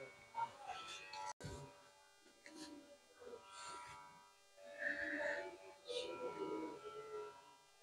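An electric hair clipper used for a haircut at a barber training school keeps buzzing steadily at low level under people talking throughout.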